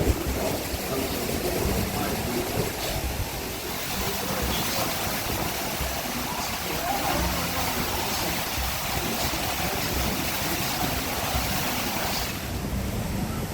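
Continuous roar of water and spray at Horseshoe Falls on the Canadian side, heard from a boat, mixed with gusting wind buffeting the microphone and a heavy, unbroken wash of sound.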